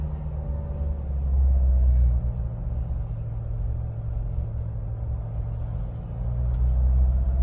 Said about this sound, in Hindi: फर्स्ट गियर में मैं इसको 2000 RPM के ऊपर ड्राइव करने वाला हूँ